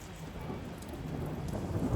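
Steady rain falls at Bukovel in a dense, even hiss, with a low rumble of thunder rolling underneath.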